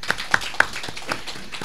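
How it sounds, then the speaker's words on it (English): A few sparse handclaps come from a small audience at an academic talk on strategy, thanking a professor after his remarks, light and unevenly spaced with a soft room murmur behind. "We'll give him a round of applause first."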